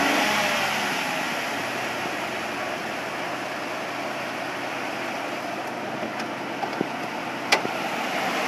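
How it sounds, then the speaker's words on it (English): A 2012 Ford F-150 XLT SuperCrew pickup engine idles quietly and steadily, with a brief rev rising near the end, heard close with no talking. "I'm gonna get a little rev of the engine here."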